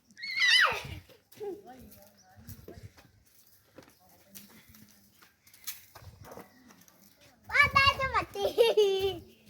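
A horse on a farm in Surat Thani neighs loudly and close at the start, then again in a long whinny near the end. Between the calls children and adults talk in the background.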